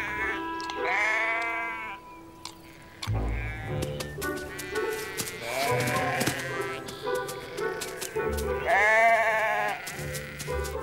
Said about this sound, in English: Inquisitive sheep don't disturb him while he's foraging.